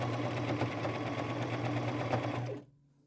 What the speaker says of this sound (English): I'm going to sew it at the bottom along here.